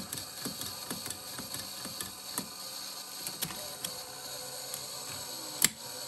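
A 1978 RCA VBT200 VCR tape mechanism kicks in and spins, giving a quiet, steady mechanical whir with a series of soft clicks and ticks and one sharper clack near the end.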